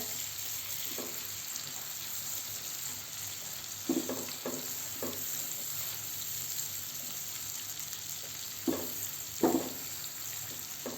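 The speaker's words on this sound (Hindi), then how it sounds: "प्याज को अच्छा गोल्डन कलर आने तक फ्राई करेंगे।" Onions frying in oil over a full flame on a gas stove, a steady hissing sizzle throughout with a few soft stirring scrapes, close and even, no voices.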